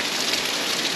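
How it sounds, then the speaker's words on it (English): Heavy rain pours down steadily at a campsite, a dense, even hiss of drops hitting surfaces close by, loud and unbroken with no voices over it. "The rain's that loud I can't even hear me bells anyway."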